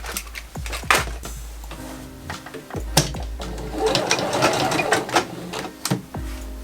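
A sewing machine stitches the side seams of a woven fabric top in quick mechanical bursts that start and stop, with a steady whirring run in the middle and some handling clatter between passes.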